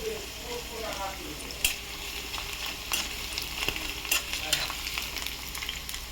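Chillies fry in a pan covered with a basket, giving a steady, soft sizzle with scattered pops and light stirring clicks, plus a faint voice early on.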